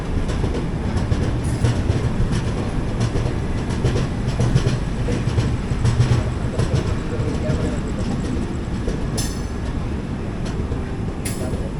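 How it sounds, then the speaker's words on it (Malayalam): Humsafar Express AC 3-tier coach rolling on after departing Mangalore Junction, a steady dense rumble with faint rail clatter throughout, recorded from inside the train. "അപ്പോൾ അങ്ങനെ നമ്മൾ മംഗലാപുരം ജംഗ്ഷനിൽ നിന്ന് പുറപ്പെട്ടു."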